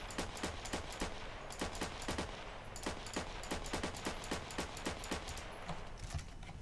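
Rapid bursts of automatic gunfire in Battlefield 2 online multiplayer, sharp repeated shots in quick clusters over a constant background rumble, with no speech.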